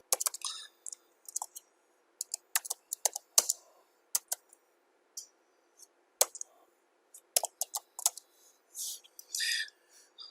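Typing on a computer keyboard, irregular clusters of crisp key clicks with short pauses between them, close and fairly quiet with no talking.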